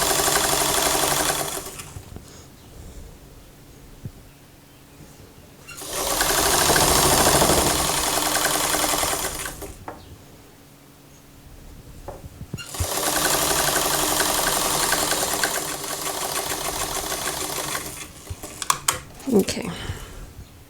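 A domestic sewing machine runs in three long bursts stitching a dress seam on a Gunne Sax inspired dress, a steady close mechanical whir with pauses between runs and handling clicks near the end.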